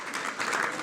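Short burst of audience applause at an education gala, fairly quiet and distant, steady clapping lasting under a second.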